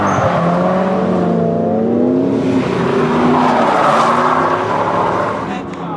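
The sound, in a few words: drift car skidding with tire squeal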